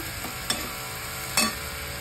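Chili powder masala being sautéed in a pan for kurdai bhaji, a low steady fry with two brief stirring scrapes standing out over the background.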